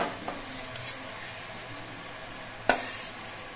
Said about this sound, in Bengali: এবার কিশমিশ গুলো ভেজে নেব